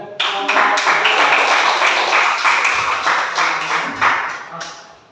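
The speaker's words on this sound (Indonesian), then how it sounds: "Silakan beri aplaus" An audience applauds after a group presentation in a classroom, giving dense, loud clapping with a few sharp individual claps that holds steady for several seconds before fading.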